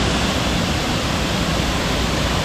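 A waterfall in Kallek village, Siang District, Arunachal Pradesh, roars as a loud, constant broadband rush of falling water, close by and unbroken, with no voices.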